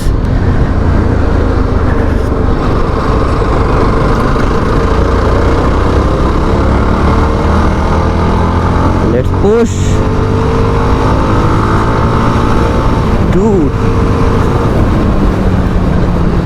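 A Yezdi Scrambler motorcycle engine drones steadily while riding, loud and continuous with shifting revs and a couple of brief pitch sweeps, as a rider speaks over it.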